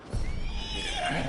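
Short whinny from a horse in the video game Red Dead Redemption 2, a single close neigh lasting about a second with no talk over it.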